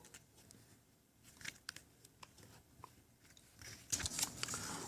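A corrugated plastic Coroplast sheet is folded and creased during DIY construction of a foldable kayak, heard as close, quiet crackles and crunchy creaks building to louder, sharper crinkling toward the end.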